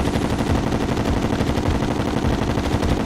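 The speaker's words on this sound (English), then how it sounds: "We're using an endless musket pouch. It shoots really fast" In the Terraria video game, an endless musket pouch weapon fires without a break. The shots come as loud, dense, rapid bursts, like a machine gun, and nothing else is heard.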